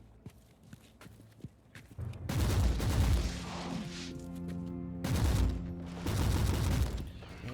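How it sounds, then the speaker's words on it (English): Several mines blowing up together in the video game Warhammer Inquisitor: Martyr, a sudden loud burst of booming explosions that rumbles on, followed by a second wave of blasts. "That's cool how they all exploded like at the same time when all the enemies were over them."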